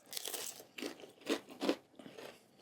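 Thin, cracker-like Papa John's pizza crust bitten and chewed up close, with four or five loud crisp crunches in an uneven rhythm over under three seconds, no talking.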